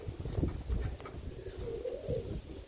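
Roller pigeons coo softly near at hand in low, murmuring bursts, faint against a quiet background.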